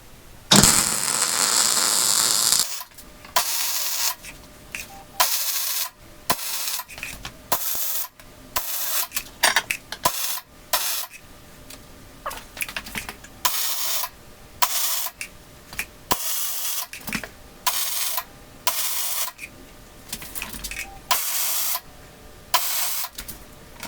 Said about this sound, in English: now that it's flipped over, I will go ahead and weld the bottom side of it.